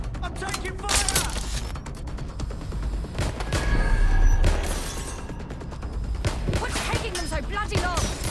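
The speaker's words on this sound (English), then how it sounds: "I'm taking fire!" Gunfire in the London action game Watch Dogs Legion: sharp, loud shots and bursts crack out at irregular intervals over mechanical clatter and rumble, with voices talking between them.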